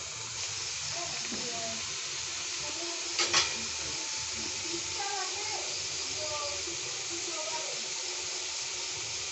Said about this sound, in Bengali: আমি রিফাইন অয়েল দিয়ে সংসারগুলো ভাজছি।